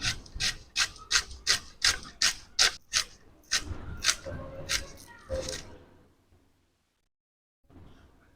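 A knife chops onions finely on a cutting board for egg curry, with quick, evenly spaced strokes in a steady run that slows and then stops, followed by near silence and a faint return of sound.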